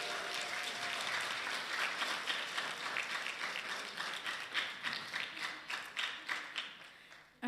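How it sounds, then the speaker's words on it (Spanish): A church congregation applauds, a dense wash of many hands clapping that holds steady, then thins into looser, scattered claps before fading out near the end. "Un aplauso para Lía."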